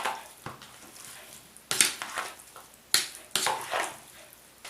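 Lightly salted pieces of red fish are stirred in a bowl, with wet, irregular scraping strokes and clinks close by and quiet gaps between them.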